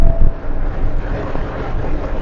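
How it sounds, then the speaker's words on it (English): Loud, steady wind roar buffeting continuously in a side wind while driving downhill at night in the Scottish Highlands, rumbling low and broad with no voices, like air rushing past a moving car. "And now it's windy with a side wind"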